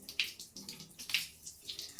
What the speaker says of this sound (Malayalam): കുറച്ചുകൂടെ വെള്ളം ഒഴിച്ചാൽ ഇത് ഏകദേശം നമുക്ക് ഷാമ്പു ഇടേണ്ട രീതിയിൽ ഹെയർ കിട്ടും അപ്പോൾ ഞാൻ കുറച്ച് വെള്ളം ഒഴിക്കുവാണ്